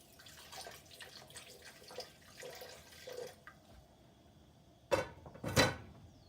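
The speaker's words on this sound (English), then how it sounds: "I'm going to rinse off the blender so that I can add some of that water into it" Water runs and splashes from a nearby tap while a blender is rinsed, quiet at first and then in two louder, sharper bursts near the end.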